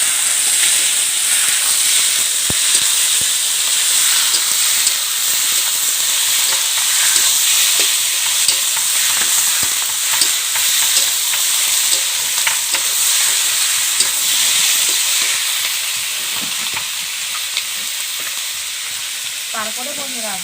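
Chicken pieces sizzle and fry steadily in hot spiced oil for a chicken curry, a loud, continuous crackling hiss with occasional stirring scrapes, close up and with no talking.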